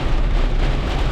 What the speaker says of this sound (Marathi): अति भयंकर पाऊस चालू आहे